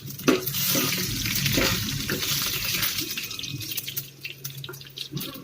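Garlic frying in a pan over medium-high heat for tomato chutney, with close, busy sizzling and spoon scrapes, loudest early and easing slightly toward the end.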